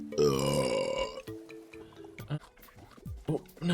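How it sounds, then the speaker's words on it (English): A long, loud, voiced burp with a rumbling, tonal drawl, followed by quieter mouth noises, a short grunt and a brief second belch near the end. "oh, another burp here"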